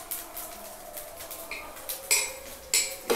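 A metal ladle clanks and scrapes through layered chicken biryani in a pot, producing irregular ringing clinks and scrapes that grow louder toward the end.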